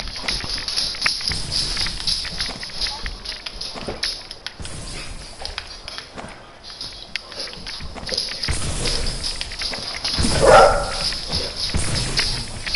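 Dogs bark intermittently against a noisy background, several short barks scattered through, with one louder outburst near the end.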